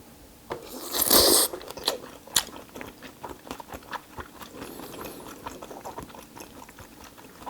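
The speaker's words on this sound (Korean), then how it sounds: "굉장히 고소하고 맛있는 냄새가 나는데 과연 맛도 있을지 한번 바로 먹어봅시다." Biting into and chewing aged beef yukhoe, Korean raw beef tartare topped with egg yolk: a loud crunchy burst of bites near one second, then soft, close, irregular chewing and mouth sounds, with no talk.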